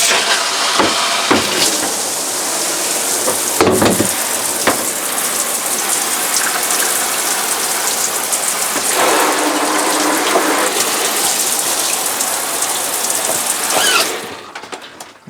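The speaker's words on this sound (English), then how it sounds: "Over to the shower. Same thing, open up the cold." Cold water gushes from the shower tap of a 2016 Eagle HT fifth-wheel RV being dewinterized, a loud steady broadband rush with brief sputtering bursts early on, then cutting off near the end.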